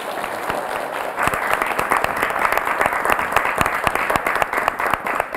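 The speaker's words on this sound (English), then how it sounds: "A round of applause for Ezefua Erabo." An audience applauds a guest speaker at a debate on marriage before children, a dense, sustained patter of many hands clapping at once.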